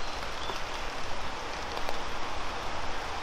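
Steady rain falling in a park during a rainy day, an even dense hiss of drops with a few louder nearby patters, continuous throughout.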